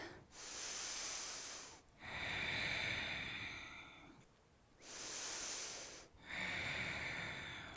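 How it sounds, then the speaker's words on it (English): Slow ocean-like Ujjayi yoga breathing during a prenatal flow class: two long, hissing throat-constricted breath cycles, each an inhale and exhale, close and soft, with no talking. "Finding that Ujjayi breath."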